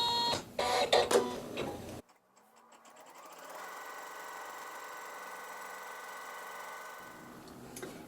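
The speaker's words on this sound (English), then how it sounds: "the machine is going to stitch a placement stitch" An embroidery machine stitches a placement stitch on quilt fabric with neutral thread, a steady whirring hum running evenly for several seconds after a brief burst of clatter, then stopping.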